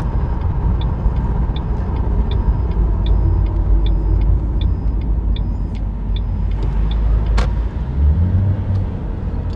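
A 2007 Ford Mustang V8 rumbles loud and steady from inside the car while a regular ticking chime repeats above it, with one sharp click near the end.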